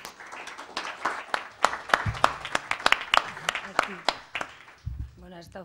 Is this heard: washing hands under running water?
no